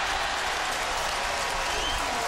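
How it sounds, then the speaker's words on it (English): About 23,000 fans in a football stadium on a chilly night cheer loudly and steadily as the crowd rises to its feet during a Boston College vs Miami game. "Crowd on its feet."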